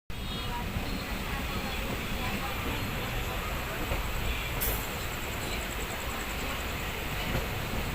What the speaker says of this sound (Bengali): ফাইনালি নিউ ফারাক্কা জংশন থেকে ট্রেন ছেড়ে দিল